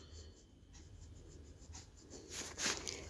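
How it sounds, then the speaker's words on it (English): A pen writing on paper up close, with soft scratching strokes in short bursts that build into a louder scribble near the end. "Then you will write W-H-I-C-H."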